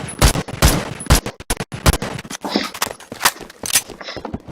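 Sharp, loud DMR gunshots ring out in the shooter game Phantom Forces, fired in a quick irregular series of single cracks with short gaps between them.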